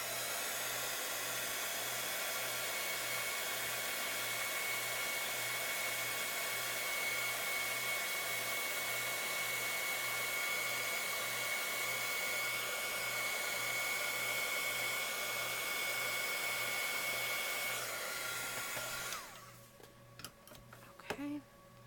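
Hair dryer blowing steadily on a boho stocking craft ornament, a loud continuous whir held for about eighteen seconds before it cuts off, followed by quieter handling clatter.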